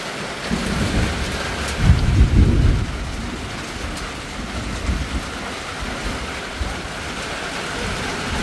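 Steady rain falls on grass while thunder rumbles, one heavy roll swelling loudly near the start before easing back into constant, even rainfall with no one talking.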